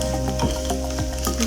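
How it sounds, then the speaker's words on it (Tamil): Green gram dry-roasting in a pan, with a soft, steady sizzle broken by repeated scraping stirs of a spoon against the metal, close and continuous without talk. "கொஞ்சமாக ரோஸ்ட் ஆகிற வரைக்கும் நம்ம வறுத்து எடுத்துப்போம்"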